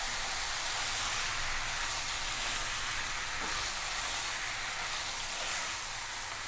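Pumpkin poriyal with grated coconut hisses in a pan while it is stirred: a steady, dense sizzle with soft scraping mixed in, close and even throughout, with no voices.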